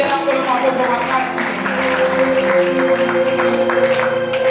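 A church congregation claps and cheers in praise during a Sunday service, loud sustained applause mixed with raised voices and shouting, with music audible underneath.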